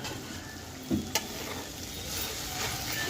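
Ivy gourd and coconut fry stirred in a pan, with a steady soft sizzle throughout and a couple of brief scraping knocks of the spoon near the start.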